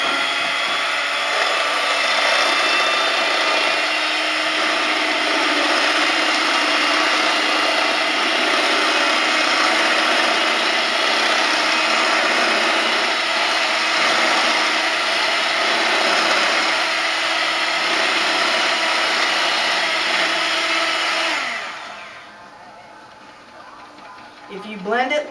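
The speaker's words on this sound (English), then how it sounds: "Alright, I'm using a blender." A blender runs steadily for about twenty seconds, mixing raw pet food with a loud, even motor whir, then stops abruptly, leaving quiet room tone with a few light clinks.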